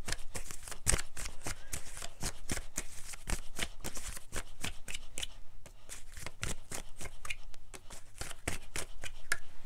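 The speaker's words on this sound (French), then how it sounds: "je prends 3 cartes du manuscrit pour les relations en tout genre" Oracle cards from a manuscript deck are shuffled and drawn, making rapid, close, crisp riffling and slapping sounds that continue in quick bursts with brief pauses and no talking.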